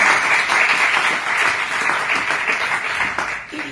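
Loud, steady applause from an audience at an Ayurveda health product presentation, dense clapping sustained throughout with no talk over it.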